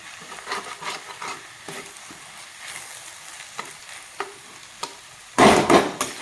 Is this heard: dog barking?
no